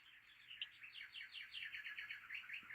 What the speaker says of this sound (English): The bird clock is ringing 3 o'clock.